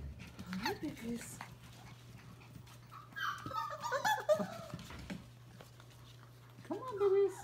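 Australian Labradoodle puppies give a few soft whimpers and high yips at close range, bursts around the middle and end, while a person speaks to them over a steady background hum.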